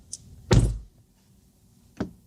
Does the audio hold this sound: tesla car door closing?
yes